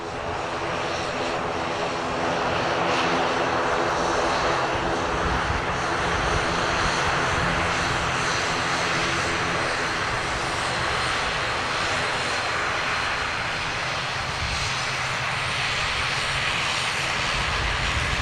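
ATR turboprop airliner engines roar loudly and steadily while taxiing at Manchester Airport, a constant broadband drone with propeller hum that fills the whole stretch without letup.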